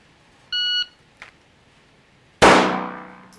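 A shot timer gives a short electronic beep, then a faint tick, and about a second and a half later a single sharp, loud live-fire gunshot at a target rings out and decays slowly.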